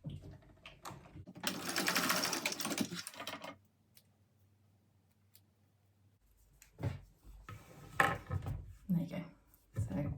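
A sewing machine bastes the seam along the bottom of a fabric backpack in one short, close burst of stitching. Clicks and handling noises come before and after it, with a voice talking briefly toward the end.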